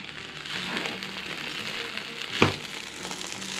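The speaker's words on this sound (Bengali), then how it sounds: "আমি এখন প্রথমে একটু ঘি দিয়ে দিচ্ছি, আর একটু ঘি দিয়ে দিই।" Ghee sizzling in a pan while pulao cooks, a steady close frying hiss with a brief louder crackle near the end; no talking.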